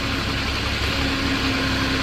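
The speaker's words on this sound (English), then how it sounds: "There's your engine coming to life" Engine of a 2015 Moffett M8 55.3 truck-mounted forklift idling, a steady loud rumble with a constant low hum and no change in pitch.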